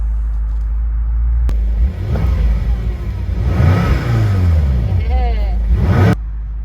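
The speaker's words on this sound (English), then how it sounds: "And then we're going to do our acceleration run." A 2013 BMW M6 Convertible in triple black with 49K miles, accelerating hard in manual M2 mode; its engine rumbles and rises through rapid rev sweeps, close and loud, with a voice speaking over it.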